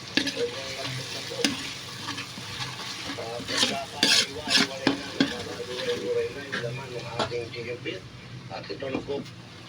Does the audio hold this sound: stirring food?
yes